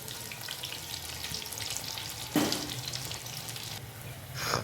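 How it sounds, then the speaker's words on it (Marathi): Chickpeas fry in boiling oil for a crispy chana snack, making a constant soft sizzle with a sharper burst of crackling midway and another near the end, with no talking. "उकळत्या तेलातच घालायचं आहे"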